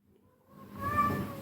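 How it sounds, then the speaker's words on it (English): A female cat meows once, a drawn-out rising call close by, heard indoors during a desktop computer build. "Don't mind the cat, she's just horny."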